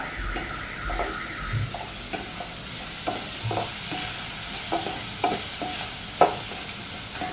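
Onions for a chicken curry sauté in a pan, a steady sizzle running throughout, punctuated by repeated scraping strokes of a stirring spoon.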